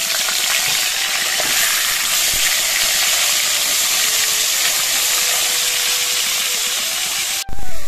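Fish frying in hot oil in a home kitchen, a steady loud hiss of sizzling that runs unbroken for several seconds before a brief cut near the end, with no talk over it.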